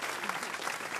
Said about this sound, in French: on vous applaudit Dolores